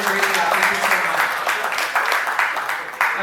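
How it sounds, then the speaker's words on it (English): An audience claps for a panel at a City of Miami innovation livestream event, dense steady applause from many hands for a few seconds. "You can clap first."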